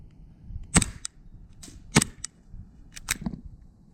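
An SSP18 gas airsoft pistol firing 3.2 g BBs on medium gas during a chronograph test, several sharp close cracks spaced about a second apart, each followed by a short metallic clack, with quiet room noise between.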